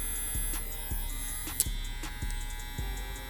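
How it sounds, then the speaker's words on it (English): A cordless hair clipper with an echo blade hums steadily at close range, a continuous buzzing drone with faint periodic throbbing pulses and a brief sharp click near the middle. "I mainly only use these for the echo blade it has and the sound it makes whenever you're debulking"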